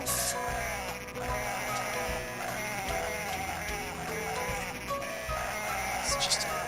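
Cartoonish sheep bleats from the Dreamcast game Cool Herders repeat over constant busy game music and effects, with someone talking throughout.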